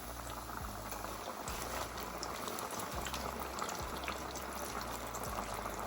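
Fish frying in grease heated to about 370 degrees, a steady close rolling sizzle and bubbling that runs without pause and with no talk.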